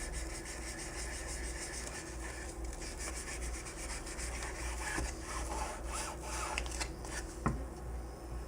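Continuous rhythmic rubbing of sandpaper on wood, close and steady, over a low background hum.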